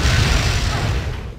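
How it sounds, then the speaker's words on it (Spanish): A deep, rumbling explosion from the video game Resident Evil 3 during the final battle, a loud sustained roar of low booming that slowly fades, with no speech over it. "Una explosión y la puerta no se abre."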